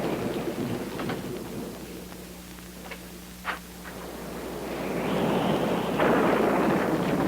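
Thunderstorm on a night when a westbound stagecoach pulls into a station: a distant rolling rumble of thunder and a brief sharp crack, followed by heavy rain that swells into a steady wash.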